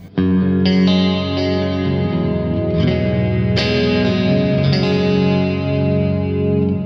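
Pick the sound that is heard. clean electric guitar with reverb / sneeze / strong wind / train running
clean electric guitar with reverb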